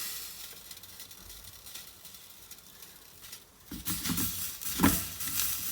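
Pieces of bread frying in melted butter in a pan on a tawa, a soft crackling sizzle that swells louder in the second half with brief scraping clicks, close and without talk.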